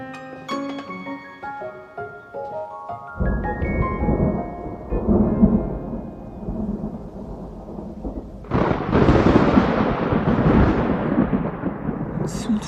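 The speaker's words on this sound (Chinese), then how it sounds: "怎么突然打雷了？" Thunder booms and rolls in two loud, long broadband bursts during a drama scene, the first rising out of a fading musical passage and the second breaking in sharply near the end.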